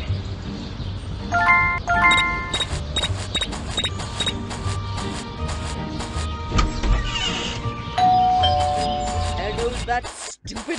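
Chiming bell tones ring out repeatedly in Scary Teacher 3D, bright ding-dong notes layered over game music and effects, with a brief cut near the end.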